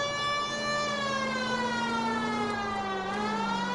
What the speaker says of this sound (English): That siren is very loud and very annoying.